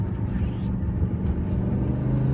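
An E60 BMW M5, a heavy 4,000-pound car, accelerating up a mountain road, giving a steady low engine rumble that stays loud and continuous with no voices.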